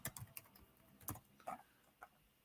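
Typing on a computer keyboard, a few quiet, close key taps spaced irregularly with brief pauses, soft and isolated in a calm room.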